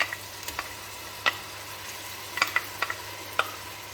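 Onions frying with coriander and garlic in a pan, a low steady sizzle broken by a few sharp clicks and taps of a utensil against the pan, close and quiet, no talking.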